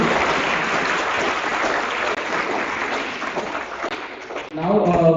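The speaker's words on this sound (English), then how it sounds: "Can we have a huge round of applause for our speaker for taking the comments and solutions as well?" Audience applause in a hall at an entrepreneurship summit, honoring a speaker: dense, sustained clapping filling the space, tapering slightly before a brief swell of voices and renewed noise at the end.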